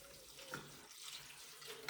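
Water runs steadily from a tap in a home conservatory to water houseplants, a soft continuous rushing at low volume with no voices.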